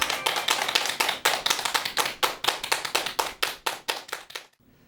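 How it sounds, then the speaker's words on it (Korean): An audience at a health lecture on diet claps for a speaker being introduced. Sharp, evenly spaced claps fall in a brisk steady rhythm for several seconds, then stop abruptly into near silence. "큰 박수 부탁드립니다"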